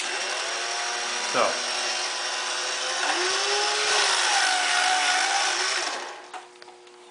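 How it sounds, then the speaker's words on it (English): A power sharpener hums and whines steadily as a V tool or gouge is ground on it, the pitch shifting slightly as the tool is worked, with a brief spoken word over it before it winds down. "Then we're going to start to sharpen this tool."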